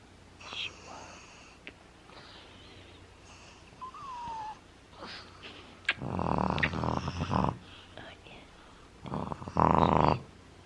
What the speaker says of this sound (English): That's loud snoring there.